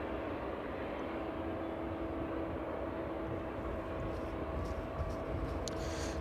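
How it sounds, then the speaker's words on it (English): An ATR turboprop turns onto final approach on an evening at East Midlands Airport. Its engines make a faint, steady, distant drone throughout. "Swift ATR just about to make a turn onto its final approach as well this evening."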